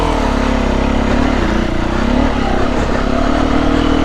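A Beta 390RR dirt bike engine drones steadily and loud on a Kent green lane, pitch rising and falling slightly as the throttle shifts, with no voices over it.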